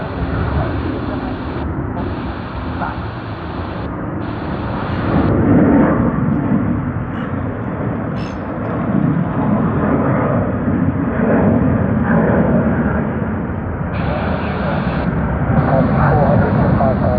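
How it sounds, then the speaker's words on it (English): A Fiji Airways airliner takes off from Sydney Airport with a loud sustained engine roar that swells and holds, while air traffic control radio chatter runs over it. "There you are, Fiji Airways emerges. And they've rotated"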